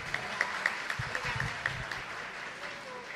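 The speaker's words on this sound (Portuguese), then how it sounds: "Uma salva de palmas para Ilana Urbano." An audience at an agricultural post-harvest institute event claps for a speaker, producing a steady patter of applause at moderate distance, busier at first and then thinning out.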